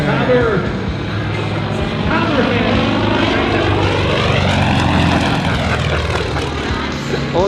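A Yak-55M aerobatic propeller airplane roars loud and close, its engine and propeller pitch sweeping up and down as the aircraft maneuvers, with people talking over the sound.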